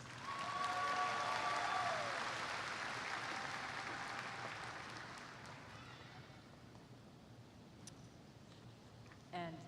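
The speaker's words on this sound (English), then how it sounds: "Let's have a round of applause for the 2022 Division Award winners" Applause for the 2022 division award winners at a Green River College commencement ceremony, a broad crowd clapping loudly at first and gradually fading over several seconds, with faint voices and a brief burst near the end.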